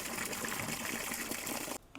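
Water pours steadily for animals to drink in a mountain village during the monsoon, a continuous splashing gush that stops abruptly near the end, with no voices.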